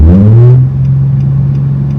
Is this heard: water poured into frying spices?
no